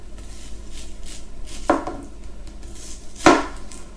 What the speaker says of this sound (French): L'oignon, je le coupe épais aussi.